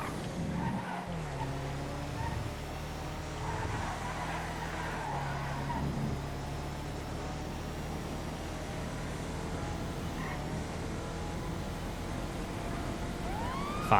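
Police car siren in the GTA FiveM video game, a faint wailing tone drifting over steady car engine and racing noise, with a brief skid, continuous through the whole stretch.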